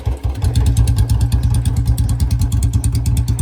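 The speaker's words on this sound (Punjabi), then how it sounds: "ਇੰਜਣ ਦੀ ਸਾਊਂਡ ਸੁਣੋ ਇਹਦੀ" A Royal Enfield Bullet with a bent silencer runs steadily up close, its single-cylinder thump loud and rhythmic with a clattery mechanical tick over the beat.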